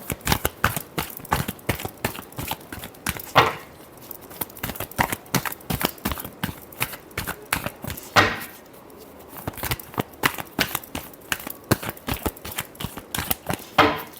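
Tarot cards are shuffled by hand in a long run of sharp, rapid riffles and taps, close and crisp, with a few louder slaps and brief pauses between bursts.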